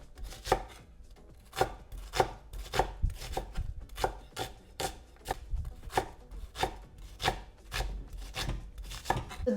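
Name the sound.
chopping onions with a knife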